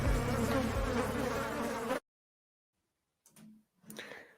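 Buzzing stinging-insect sound effect: a dense, loud drone for two seconds that cuts off abruptly, followed by silence and then two short, fainter buzzing bursts.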